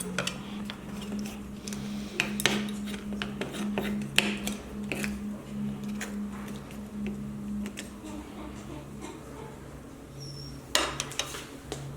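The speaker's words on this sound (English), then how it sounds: "I want to get the peanut butter off this side here. Just scraping it off." Peanut butter scraped off a rat trap with a utensil makes short, close scratchy strokes and light taps in an irregular rhythm over a steady low hum, fairly quiet.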